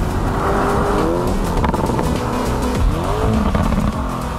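A Lamborghini Urus SUV drives hard, its engine revving while the tires squeal and skid in sharp bursts. The sound is close and loud and carries on without a break for about four seconds.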